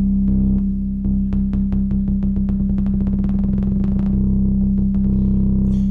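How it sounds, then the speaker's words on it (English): UNO Synth holding a steady buzzy tone while a tremolo effect chops it into a fast, even pulsing, loud and alone, with the pulses speeding up before settling. "It also has tremolo."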